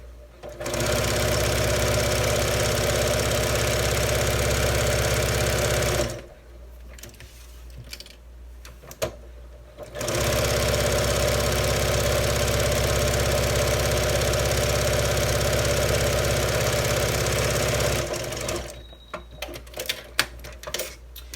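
An electric sewing machine stitches an apron in two long, steady, loud runs of rapid mechanical whirring, separated by a pause of quiet handling and ending with a few soft clicks.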